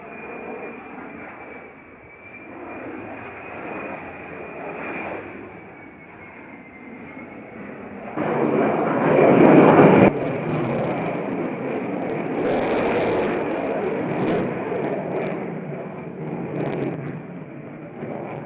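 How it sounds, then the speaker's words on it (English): F-35 fighter jets pass overhead, a broad rumbling roar that swells louder midway then sustains, with a steady high whine running through it. "The F-35s flew around like this for almost 30 minutes"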